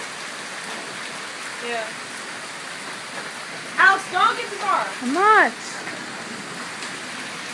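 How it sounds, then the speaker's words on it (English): Hard rain from a thunderstorm hisses steadily in the background as a constant wash of sound, with several people talking and laughing over it. "No, but the rain was hard."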